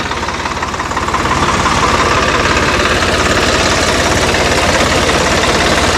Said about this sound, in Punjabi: ਟਰੈਕਟਰ ਦੇ ਨਾਲ ਚੱਲ ਰਹੀ ਆ ਕਲਾੜੀ